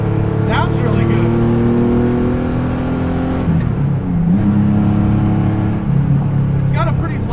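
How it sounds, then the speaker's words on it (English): A raced, rat-rodded 1970 Porsche 911 with a light flywheel revs up and down quickly, its engine droning loud and close throughout with rising and falling pitch sweeps. "It's got a pretty light flywheel on it, huh? Revs up and down real fast."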